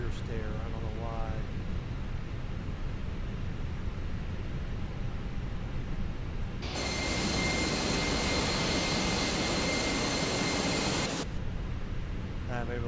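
Airbus A319 jet engine running after start, a loud steady roar with a bright high-pitched whine that swells in midway for several seconds over a constant low cabin rumble, with a voice talking faintly at the start.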